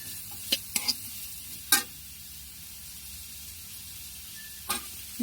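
Garlic fries in a pan for a dried lotka fish bhuna, a soft steady sizzle with a few sharp clinks and scrapes of a utensil against the pan, no talking.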